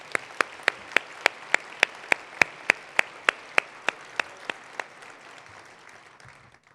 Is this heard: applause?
yes